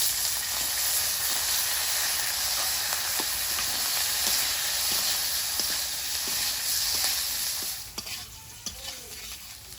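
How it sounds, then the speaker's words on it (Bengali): Whole garlic cloves and potatoes frying in hot oil give a steady, loud sizzle and hiss that holds throughout, with a few light stirring clinks near the end. "রসুনটা কিন্তু গোটা গোটাই থাকবে আলুর সঙ্গে ভাজা হবে"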